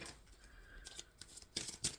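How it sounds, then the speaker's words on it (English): Tarot cards shuffled by hand in a quiet room, a few soft riffling bursts with the loudest crisp flutters near the end. "Spirit, I am shuffling for the Aquarius Collective"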